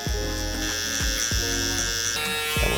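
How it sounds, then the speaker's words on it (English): A sharp electric hair trimmer buzzes steadily at close range during a curly-hair taper cut at a barbershop, with its motor hum interrupted by repeated soft clicks and taps as it passes over the hair. "This is my sharper trimmer. So I go right underneath that."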